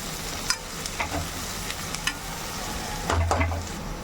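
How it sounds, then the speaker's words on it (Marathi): Crushed garlic sautéing in a hot pan for a Maharashtrian potato and pea curry, giving a soft, steady sizzle with a few light stirring scrapes and one brief louder burst near the end. "लसूण टाकून घेतलेलं आहे वाटलेलं परतून घ्यायचं"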